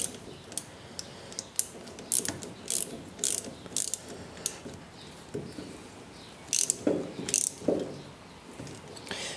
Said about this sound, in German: Dafür kann ich jetzt die Ratsche nehmen.